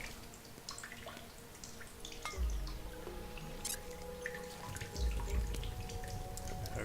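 Water trickling and dripping in the Solus Project video game, quiet and close, with a steady low background hum and a few soft splashy bursts.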